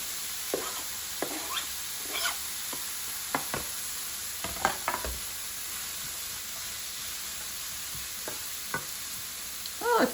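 Garlic frying in a pan while Italian pasta and beans are cooked, with a steady quiet sizzle and brief stirring scrapes over it, and no talking.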